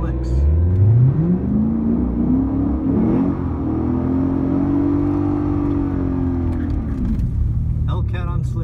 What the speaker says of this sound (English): racing a Hellcat on slicks.